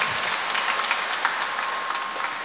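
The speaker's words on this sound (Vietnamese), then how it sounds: "một tràng pháo tay" Steady applause from a congregation at a First Communion Mass in a parish church, dense and even clapping continuing throughout at moderate volume.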